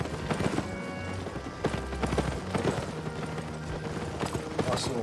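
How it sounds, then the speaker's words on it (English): Donkey mount hooves clip-clop at a running pace in the video game Albion Online, a steady rhythmic patter of hoofbeats with game ambience behind it. "Here I am running around on my donkey."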